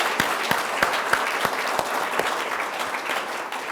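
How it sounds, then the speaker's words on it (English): Audience clapping at an awards ceremony during a culinary and conference gathering, a moderate crowd applauding steadily with distinct individual claps standing out, fairly soft and without voices. "Let's have another round of applause for everyone."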